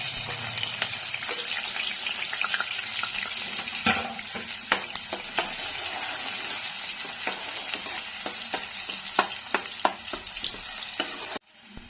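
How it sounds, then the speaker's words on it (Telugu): Chopped onion fries in hot oil with garam masala, a steady close crackling sizzle with repeated sharp scraping clicks from stirring before it cuts off at the end. "ఇప్పుడు ఒక పెద్ద ఉల్లిగడ్డని కోసుకున్నా ఇది నూనె వేడైంది కదా వేసేస్తా"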